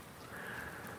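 Rain falling in the Farming Simulator 19 game world, a soft steady hiss of drops on surfaces with no talk over it.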